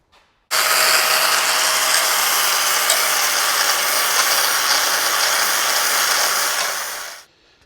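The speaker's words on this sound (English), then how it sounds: "Do a little bit of grinding." An angle grinder works steel plate for a Land Cruiser winch mount, a loud, continuous, harsh whine that runs steadily for about seven seconds before cutting off, alone with no voices.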